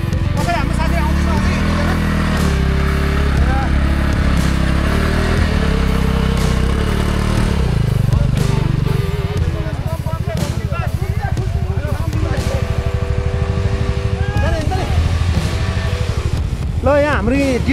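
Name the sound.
KTM Duke motorcycle riding on snowy mountain road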